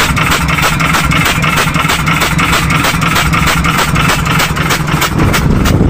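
Close, loud boat engine chugging in a fast steady rhythm, a rough mechanical running noise from a faulty engine, continuing without pause.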